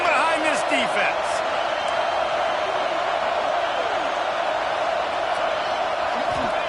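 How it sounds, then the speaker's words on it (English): A football stadium crowd roars steadily behind the defense on a big third down in the red zone, a constant loud wall of cheering with whoops, under an excited play-by-play voice. "this crowd is getting behind this defense"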